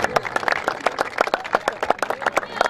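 Crowd applause at a prize-giving ceremony for a tent-pegging festival in Dinga, Kharian, Gujrat: many hands clapping loudly and unevenly, close and alone.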